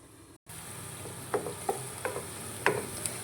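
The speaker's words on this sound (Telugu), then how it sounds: "ఒకసారి బాగా కలుపుకుని మూత పెట్టేసి లో ఫ్లేమ్లో మగ్గించుకోవాలి" Onions are stirred in a pan before it is covered to cook, with several soft, close scrapes and light clinks at an even pace over a low, steady sizzle.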